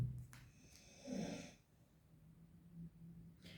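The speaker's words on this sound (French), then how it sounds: "quand vous me demandez ce que sont les bruits de fond, donc il y a Jazz qui ronfle" A pet named Jazz snores faintly in the background, with soft, rough breaths rising and falling in a slow rhythm in an otherwise quiet room.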